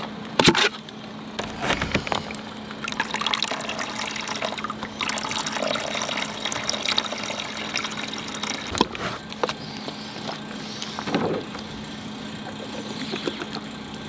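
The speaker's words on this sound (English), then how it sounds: "Let me get some water in there." Water runs and trickles steadily into an EcoFlow Glacier ice maker for several seconds, with a low mechanical hum beneath and a couple of brief clunks.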